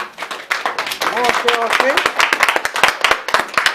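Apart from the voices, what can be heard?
audience clapping at graduation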